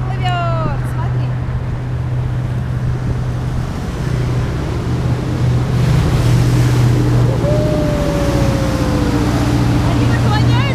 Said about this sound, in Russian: Лодка плывет, смотри.